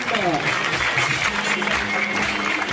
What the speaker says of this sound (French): un tonnerre d'applaudissements pour la famille Watson et l'O'Brien